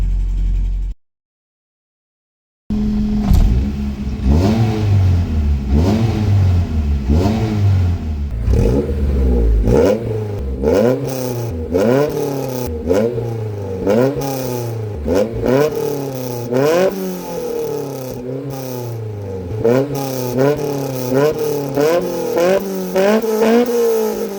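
A Mini car engine warming up revs up and down repeatedly with rising and falling whines, loud and close, after a brief silence at the start.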